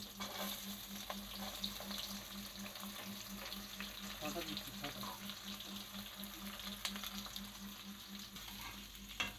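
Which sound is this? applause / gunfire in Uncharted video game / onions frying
onions frying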